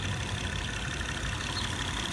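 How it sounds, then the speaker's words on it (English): A 2012 Acura TL six-cylinder engine idling nearby, giving a steady low hum with an even, unchanging drone throughout. "There's a nice little Acura six-cylinder engine."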